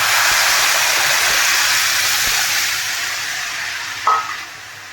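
Yogurt is poured into a pan with turmeric for Marathi kadhi, making a steady hissing, splashing wash that gradually eases off, followed by a brief clink near the end.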